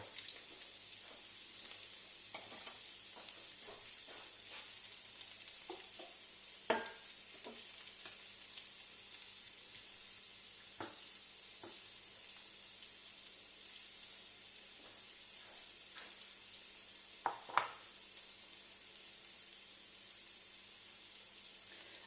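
Ginger frying in a pan, a steady soft sizzle and crackle with occasional stirring clinks, close but quiet.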